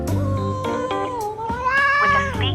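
A caracal cat in the Love and Deepspace video game meows repeatedly and loudly, with drawn-out, wavering, caterwaul-like cries that run continuously and close up, with no one speaking.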